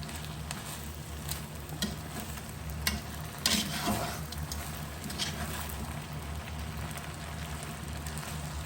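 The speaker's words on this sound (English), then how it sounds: "Then kind of a tongs I find is the best. Just kind of mix it all up there together." Tongs tossing monkfish, chard and red rice together in a hot pan, under a steady sizzle with soft scraping and occasional light clacks of metal against the pan.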